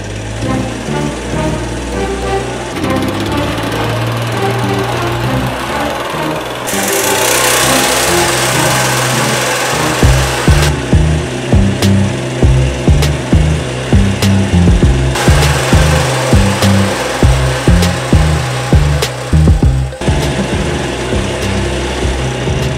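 A moped engine is started and run, a loud close mechanical drone that shifts partway through into a rough, rhythmic pulsing putter with sawing-like texture, continuing without speech.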